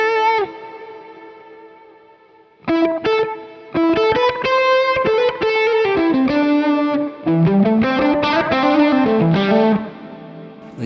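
Electric guitar notes and chords played through two amps with a short slapback delay, each attack doubled by a quick echo; after a held note fades there is a pause, then busy melodic lead phrases ring out loudly with no voices.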